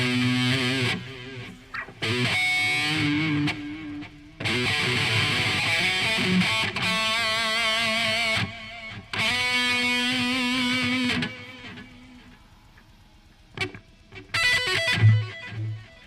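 Distorted electric guitar played through an amp simulator with a Nembrini analog rack delay plugin, heavy chords and riffs coming in bursts separated by short pauses, with echoing tails trailing after some phrases.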